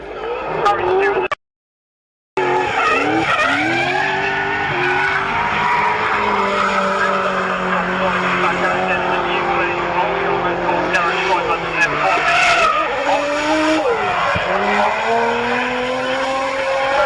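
A Nissan S14 drift car fitted with an RB25 engine from a Skyline drifts at Castle Combe's Forge Action Day: a loud, sustained engine roar with pitch swings and tire skidding. A voice talks over it, and the sound cuts out briefly near the start.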